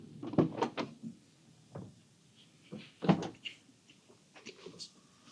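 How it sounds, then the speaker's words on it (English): A couple of clunky latch and hinge sounds as an Ineos Grenadier door is worked open, close by, with quiet pauses between. "these doors open interestingly."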